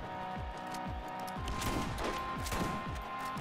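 Rapid gunfire in the Borderlands shooter, Mad Moxxi's Underdome Riot arena, with repeated shots and dropping tonal tails that overlap in a dense, continuous volley, loud and close throughout, with only faint voice beneath.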